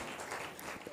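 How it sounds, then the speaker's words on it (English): Audience applause at a women's socio-economic rights workshop, a brief burst of clapping that carries on steadily and fairly close, with a low voice starting up at the end. "Une salve d'applaudissements encore pour ce panel."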